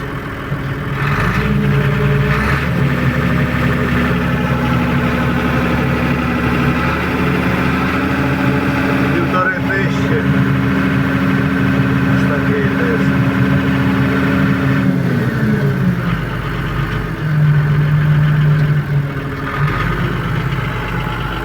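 A newly fitted D-260 diesel engine on a Niva SK-5 combine harvester idles steadily and loud up close, with a constant low drone and slight shifts in pitch partway through.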